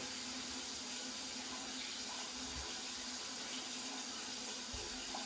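Arnica Tesla Premium vacuum cleaner filter washed under a running tap, a steady hiss of flowing water in a sink, close and even throughout, no talking.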